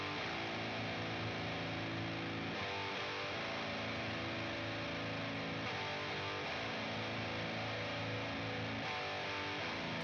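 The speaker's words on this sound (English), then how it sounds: "So that's when I decided to add the baritone guitar." Paul Reed Smith baritone guitar tuned to drop A plays a dense, heavy, distorted riff that stays steady and continuous throughout, sitting full and low with no talking over it.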